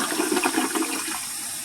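A toilet flushes close by, a short rushing swirl of water that fades within a couple of seconds.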